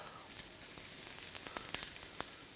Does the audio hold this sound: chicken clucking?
no